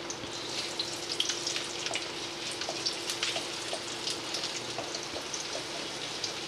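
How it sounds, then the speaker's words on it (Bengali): Chopped garlic with bay leaf, cardamom, cloves and cinnamon fry in oil, producing a constant soft sizzle with fine crackles throughout, close and fairly quiet. "একটু ভাজা ভাজা করব।"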